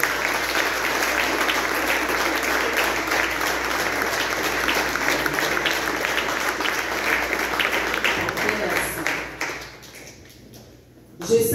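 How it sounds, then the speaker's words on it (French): Standing church congregation applauding the youth and juniors, dense sustained clapping from a large crowd that continues for about nine seconds before tapering off. "toute l'Église, vous allez vous mettre debout pour applaudir chaleureusement les jeunes et les"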